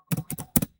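Quick keystrokes on a computer keyboard while a Linux terminal command is entered: three short clusters of crisp, close clicks in under a second, with no speech.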